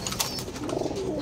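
A racing pigeon gives a soft, close coo, a short low rolling call lasting about a second over faint background noise.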